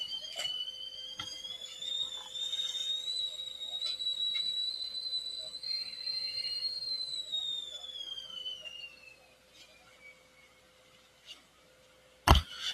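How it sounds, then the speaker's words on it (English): A high, steady whistle from a kettle sounds for about nine seconds, gently bending in pitch, then cuts off, leaving a quiet room and a sharp click near the end. "I got to go catch my teapot."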